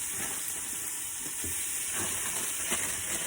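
Mushrooms stir-frying in a pan inside a van kitchen: a steady, hissing sizzle runs throughout at moderate level, with a few soft scrapes and clinks of the pan over it and no talking.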